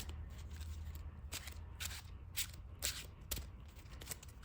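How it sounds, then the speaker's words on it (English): A deck of Digimon trading cards being shuffled by hand before a match, a run of quick crisp riffling bursts repeating several times at close range with no talking. "Get ourselves a quick little shuffle popping real quick."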